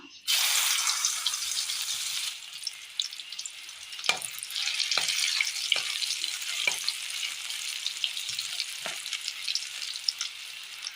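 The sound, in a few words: soya chunks frying in hot oil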